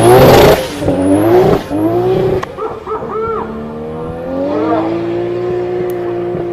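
A 2JZ-swapped car revs hard, its engine note sweeping up and down with turbo whistle and flutter, loud and close, fading to a steadier drone toward the end.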